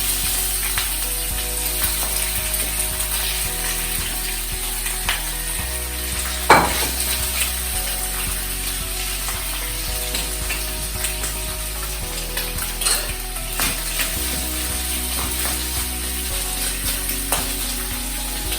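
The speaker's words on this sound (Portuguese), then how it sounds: "Vou colocar um pouco de alho juntamente com o camarão. E vamos pôr o camarão." Shrimp and garlic fry in olive oil in a pan, a steady sizzle with stirring clatter and a sharp scrape partway through, close and alone without talk.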